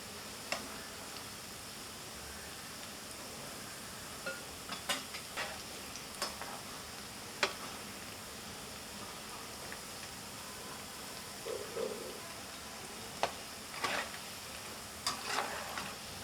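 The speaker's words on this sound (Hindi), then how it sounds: "तो चम्मच से इस तरह चलाते रहेंगे तो तकरीबन 1 से 2 मिनट में ये बन जाते हैं।" Bhajiya fry in hot oil in a faint, steady low sizzle, with scattered sharp ticks and clinks from a spoon stirring them now and then across a long stretch, quiet and with no talking.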